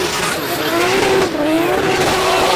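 A drift car at a D1NZ drifting championship qualifying round at Baypark Stadium, Tauranga, holding heavy wheelspin with a continuous loud tyre squeal and engine roar throughout.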